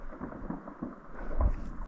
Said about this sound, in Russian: тут звук был сначала такой мощный, как будто гром